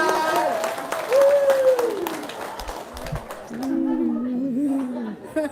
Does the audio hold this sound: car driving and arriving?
no